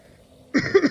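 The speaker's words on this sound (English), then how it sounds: "I'm just coughing so much today." After a near-silent pause, a person gives a short burst of two or three throaty coughs, close and fairly loud.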